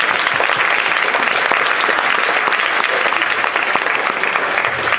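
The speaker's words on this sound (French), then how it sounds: "Vous pouvez les applaudir." An audience claps steadily and loudly after a school choir performance at Stanislas Cannes, the dense applause continuing evenly throughout with no pause.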